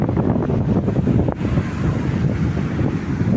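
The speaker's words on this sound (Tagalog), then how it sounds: "May hangin, guys." Steady wind roars across the microphone at the shore of Baybay Boulevard, Borongan, Eastern Samar, a dense low rumble with faint surf underneath and no voices.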